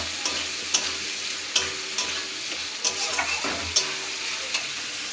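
Chicken being stir-fried in a pan for biryani, a bright continuous sizzle broken by repeated sharp scrapes and knocks of the spatula at irregular intervals, close by with no talking.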